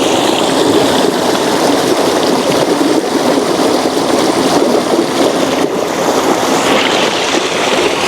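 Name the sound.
flowing stream water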